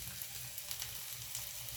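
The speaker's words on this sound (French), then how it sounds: "Pendant que mes échalotes sont en train de revenir tranquillement" Shallots sizzle gently in a frying pan, a soft, continuous crackle and hiss heard up close with no talking.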